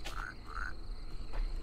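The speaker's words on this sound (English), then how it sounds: "That was a frog!" Within an itch.io video game, a frog gives two short, bright croaks in quick succession, then a fainter third chirp, over a low steady background hum; nobody speaks.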